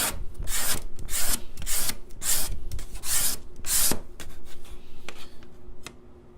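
A card scraper works across guitar tonewood in a quick, steady rhythm of rasping strokes, each a short bright scrape close to the mic, about eight passes that slow and thin out toward the end.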